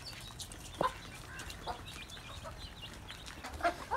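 Chickens cluck in an outdoor poultry setup where hens and colourful chicks roam and drink water; a few short, fairly distinct clucks stand out over steady background noise.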